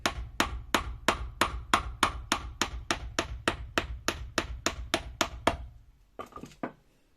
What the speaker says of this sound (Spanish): Vamos a martillar un poquito.